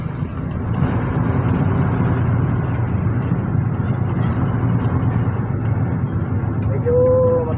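Steady road traffic at night in Gapan City, a continuous low rumble of car engines and tyres heard from inside a moving vehicle, with a faint high tone near the end.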